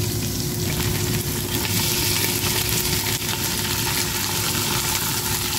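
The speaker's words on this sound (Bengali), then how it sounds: "এবার চিকেনগুলো ঢেলে নেব।" Chicken thigh pieces fry in a pan for pan-roasted chicken shammi kebab, a loud, steady, dense sizzle running the whole way through with no voices.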